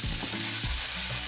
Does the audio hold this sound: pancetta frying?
yes